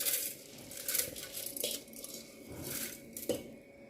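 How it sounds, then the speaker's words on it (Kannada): Soaked rice and washed poha going into a steel mixer jar for banana dosa batter: quiet clinks, taps and scraping in a home kitchen, spaced irregularly, with no voices. "ಈಗ ಇದನ್ನು ಮಿಕ್ಸಿ ಜಾರಿಗೆ ಹಾಕ್ಕೊಳ್ತಾ ಇದ್ದೀನಿ"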